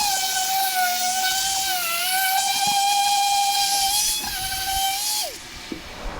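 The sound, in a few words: Rust-Oleum spray paint can spraying truck interior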